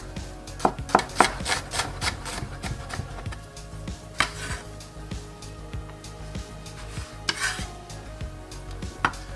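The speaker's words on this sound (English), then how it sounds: "I wanna chop some onion" Onion being chopped with a knife on a board, irregular sharp taps in quick clusters with pauses between, near and fairly quiet, against a faint sizzle.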